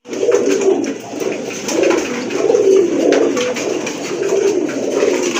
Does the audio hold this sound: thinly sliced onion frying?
no